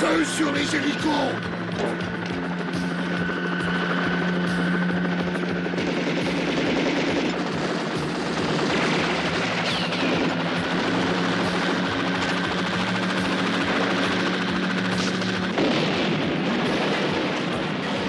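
Helicopters fly through heavy gunfire in a French-dubbed war film, with loud, continuous machine-gun bursts and explosions over a steady rotor drone, while voices shout beneath the din.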